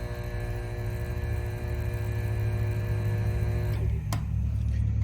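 A KitchenAid dishwasher motor runs on a test harness, giving off a steady close electric hum with tonal overtones, and a brief sharp click sounds near the end.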